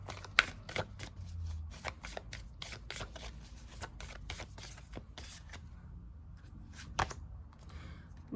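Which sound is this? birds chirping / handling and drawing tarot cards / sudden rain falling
handling and drawing tarot cards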